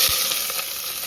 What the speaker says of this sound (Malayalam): നമ്മൾ സബോള ഇട്ട് കൊടുക്കാം